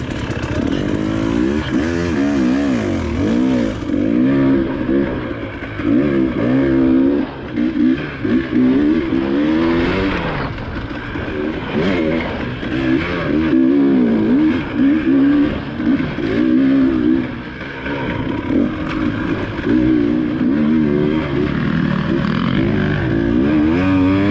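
An enduro dirt bike ridden hard on a trail through a wash in Soboba, California, its engine revving loud and close throughout, rising and falling with throttle changes, no talk.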